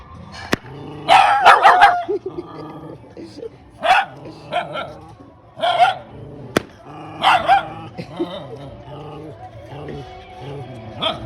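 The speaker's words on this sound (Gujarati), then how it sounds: "આ રહ્યું ના કૂતરું" A dog barks and yips repeatedly in short bursts near the microphone, mixed with people chatting close by.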